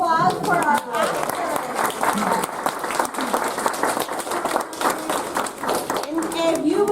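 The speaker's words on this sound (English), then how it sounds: "let's give another round of applause for our actors." Audience applauding a cast of actors after a stage performance by a castaways theater group, steady dense clapping throughout with some voices and crowd noise mixed in.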